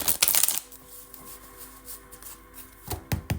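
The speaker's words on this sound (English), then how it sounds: "We're just going to start shuffling the cards and see what comes out." Tarot cards are shuffled in quick riffling bursts at the start and end, with quieter handling in between, close and fairly soft.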